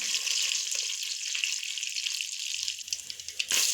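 Spices and curry leaves fry in hot oil for a duck stew, making a bright steady sizzle up close. It crackles and sputters a little toward the end, and no voices are heard.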